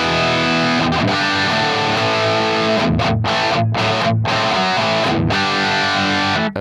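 Electric guitar played through an Axe-Fx III on its Brit Silver amp model, loud overdriven chords and riffs with short muted stops between phrases, no voices.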